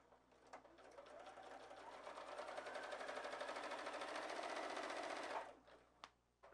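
Sewing machine stitching a seam on a 3D pinwheel quilt block, a fast even whirring run of needle strokes lasting about five seconds, close and clear, then stopping with a couple of small clicks afterward.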